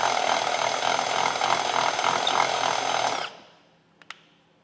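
A power tool whines steadily and loudly for about three seconds while enlarging a hole in the frame of a 2019 Nissan Rogue Sport, then cuts off, followed by a sharp metallic tick or two.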